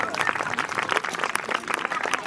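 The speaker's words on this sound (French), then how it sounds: "Donc on a deux chevaliers bien fatigués, vous pouvez applaudir." An audience at a witches' festival applauds two tired knights after a combat, a short burst of scattered clapping mixed with murmuring voices and someone talking over it.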